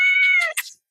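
A cat gives one close, clear meow that starts steady and breaks into a brief rising, wavering cry before fading into silence, with no talking.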